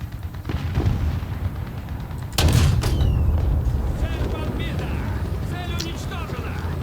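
An M44 artillery piece fires in a War Thunder tank battle, one heavy close boom followed by a long rolling rumble, with faint shots and engine noise and a voice talking underneath.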